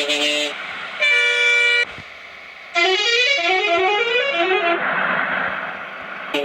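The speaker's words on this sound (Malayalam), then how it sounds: "അപ്പോൾ ഞാൻ ജസ്റ്റ് ഇപ്പോൾ ഹോൺ അടിച്ചു നോക്കാൻ പോവാണ്." Bus horns sound in the Bus Simulator Indonesia game: a short blast, then a longer steady toot, a pause, and then a melodic multi-tone musical horn running for about two seconds, loud and clean with nothing else.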